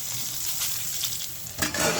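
A fish head fries in hot oil in a kadai wok, a loud, continuous close-up sizzle that swells into a harsher crackling burst partway through.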